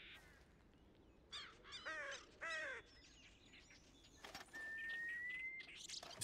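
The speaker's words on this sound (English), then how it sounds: "Lots of birds singing." Birds call and sing in the ambient soundscape of the video game Red Dead Redemption 2, with several harsh crow-like caws and chirps followed by a long clear whistled note, fairly distant over a faint background.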